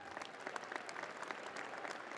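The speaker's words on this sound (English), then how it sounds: "Give yourselves a round of applause." Graduates at a winter commencement clap for themselves, a dense, even patter of many hands sustained throughout at moderate distance with no voices on top.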